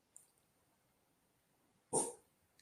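A dog barks once, a single loud, sharp burst rising out of a quiet room, with a faint short yelp near the start.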